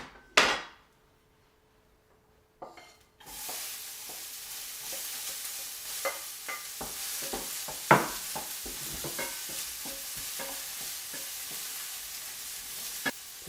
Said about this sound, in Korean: 이제 양파를 볶겠습니다.